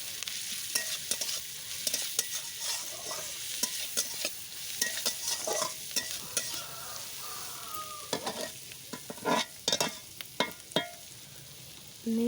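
Salt and ground turmeric are stirred into a frying mixture in a kadai, giving irregular spoon scrapes and clicks over a soft, continuous sizzle, close and alone without talk.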